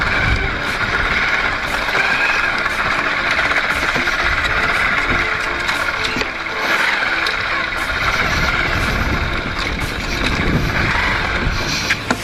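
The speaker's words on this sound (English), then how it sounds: "Let's try going there over a motorbike." A motorbike ride out to a tiny pond in rural Kutch, its engine droning steadily and close throughout with a rough, knocking throb and wind rush, no talk over it.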